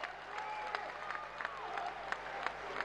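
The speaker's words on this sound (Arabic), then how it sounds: "الجماهير الصربيه البوسنيه اللي بتشجع فريق فويفودينا" Serbian and Bosnian fans at a handball match between Montpellier and Vojvodina fill the arena with a steady roar of cheering and clapping, somewhat distant, with scattered sharper claps and whistles throughout.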